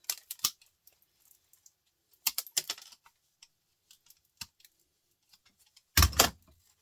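Snips cut through scrap pieces from a large printer, giving a few sharp close clicks and crisp snips separated by quiet gaps, ending in a louder crunchy cut.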